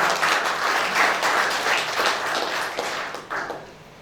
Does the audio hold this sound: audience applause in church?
yes